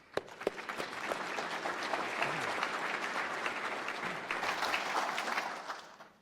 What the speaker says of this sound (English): So let's just give them a quick round of applause.